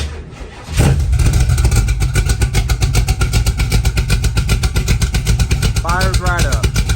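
A carbureted Kawasaki KLX110 dirt bike engine catches after a brief quiet moment and settles into a steady, close, loud idle with a rapid putter throughout.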